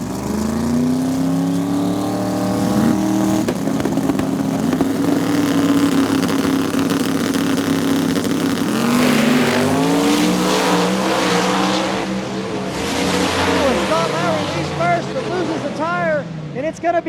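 Small tire drag race cars roar at Beech Bend Raceway, loud engines revving and rising in pitch, with tire squeal and a crowd of race noise, while voices talk over the din.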